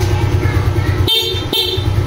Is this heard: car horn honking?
yes